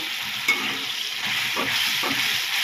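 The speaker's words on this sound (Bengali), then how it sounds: "এটাও কষাচ্ছি।" Vegetables sauté in a pan with a steady close sizzle, broken by a few soft stirring scrapes and clicks, and no voices.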